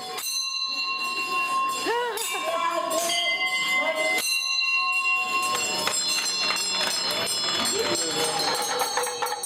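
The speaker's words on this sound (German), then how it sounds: "Der Klang der Trommeln und Glocken soll positive Energien wecken und negative abwenden." Bells ring repeatedly in a bright, sustained jangle at the Boudhanath stupa in Kathmandu, with drum-like thumps and a dense crowd bustle throughout, steady and fairly loud.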